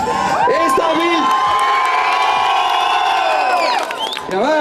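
A festival crowd at Grillfest 2017 in Tartu cheers and whoops loudly in a cheering contest, reaching 122 decibels. The sustained roar of shouting voices lasts nearly four seconds before fading.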